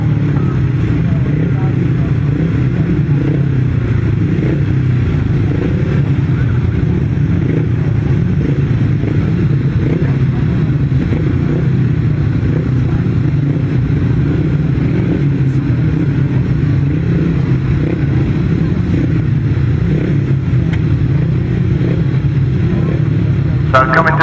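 Racing motorcycles roar steadily at a grasstrack meeting, the engine drone continuous and fairly loud throughout with crowd and announcer talk mixed underneath.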